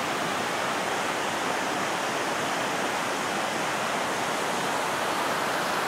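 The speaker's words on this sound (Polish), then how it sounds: "I pod takim wodospadem." Steady, dense rush of falling water from a waterfall beneath a glacier in Norway, loud and continuous, with no other sounds.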